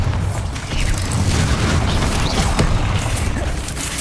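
Explosive blasts from Bombarda and other spells in Hogwarts Legacy combat, a loud continuous barrage of booms, crackles and impacts with sharp bursts scattered throughout and no voices.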